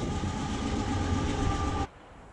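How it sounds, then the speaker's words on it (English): A CSX freight train with a CM44AC locomotive pushing at the rear rolls past along the Delaware River with a loud steady rumble and engine drone, then cuts off abruptly near the end. "The third engine is pushing the train."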